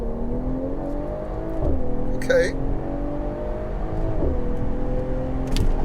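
A Mercedes-AMG GT 53 engine drones and climbs in pitch, shifting through gears as it pulls away from a standstill, with a short word spoken over it.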